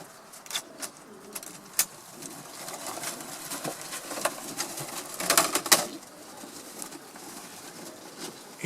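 Racing pigeons, some sick with pox, give soft intermittent coos among scattered scuffles, wing flaps and pattering in a loft, fairly close with no talking.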